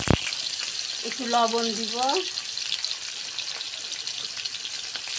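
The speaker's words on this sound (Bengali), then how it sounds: "মাংসের আলুগুলো সুন্দর করে ভেজে নিব।" Potatoes for a chicken curry fry in a pan with a steady, high hiss of sizzling oil, close and constant, while someone speaks briefly over it.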